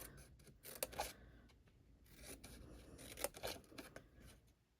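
Scissors cutting along score lines in cardstock for a handled treat basket, a few quiet crisp snips in short bursts, close and faint, with no talking.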